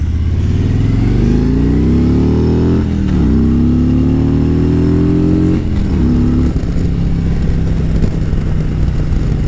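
Harley-Davidson Road Glide motorcycle engine riding, a loud, steady drone that climbs in pitch through successive revs, with two shifts that drop the tone before it pulls up again, close and continuous with no talk.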